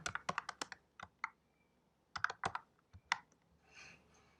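Rapid bursts of keystrokes on a computer keyboard, close and crisp, with clustered clicks broken by short pauses and a softer rustle at the end; no one speaks.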